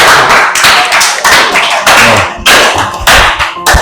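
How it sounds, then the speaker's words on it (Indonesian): Loud, close bursts of clapping from a classroom of students cheering for a classmate, coming in several uneven waves with thumping taps mixed in. "Tepuk tangan dulu untuk Adit."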